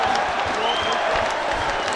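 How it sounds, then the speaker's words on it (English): Football fans cheering and clapping in the stands at a Gateshead versus Hartlepool match, a steady dense roar of crowd noise with applause throughout, loud and continuous. "Gateshead fans are cheering"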